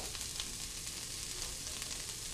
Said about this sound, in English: I am right now sauteing some onions